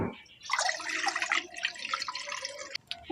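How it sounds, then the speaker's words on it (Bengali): Water pours into a wok for boiling banana flower, a close, splashing gush that swells quickly and runs steadily for about two seconds before trailing off into a few drips. "কড়ার মধ্যে জল দিয়ে দিচ্ছি"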